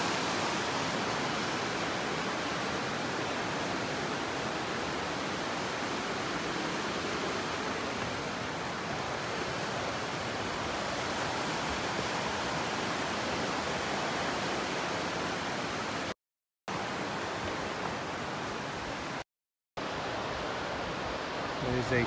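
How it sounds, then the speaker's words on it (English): Serious churning river rapids and falls roar from below in a steady, continuous wash of white water that fills the scene, with two brief dropouts near the end. "churning river down there. Serious rapids. Those are some falls there too."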